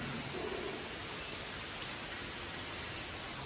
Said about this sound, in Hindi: नहीं तो बराबर बारिश हो रही है एक साथ में